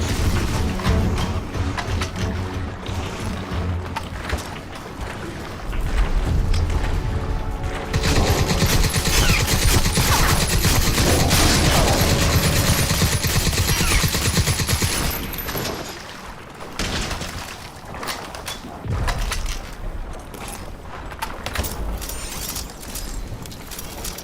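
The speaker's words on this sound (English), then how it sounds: "That's a nice gun also, man. We got now the Reaper gun." The Reaper gun in the video game Crysis 3 fires a dense, sustained burst of rapid shots in the middle, with mechanical clicks and rumbling action before and after the loud barrage.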